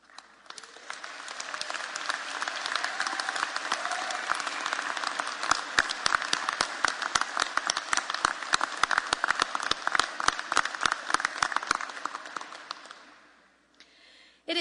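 A large commencement audience applauds honor society members as they stand, a long, even wash of clapping that swells, holds steady for several seconds, then thins out and fades.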